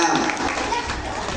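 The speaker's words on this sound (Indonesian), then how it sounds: "Silakan duduk, tepuk tangannya." An audience applauds at an Isra Mi'raj religious gathering, a short burst of dense crowd clapping with voices mixed in.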